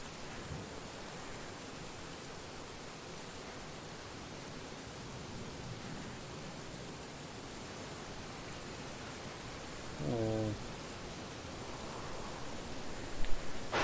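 Steady rain from the Oregon Trail video game falls as a constant, even hiss throughout, with a brief muffled tone near the end and no talking.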